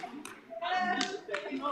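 A crowd of 16-year-olds at a keynote event bursts into clapping and cheering, short loud bursts of applause and shouts that come in uneven waves.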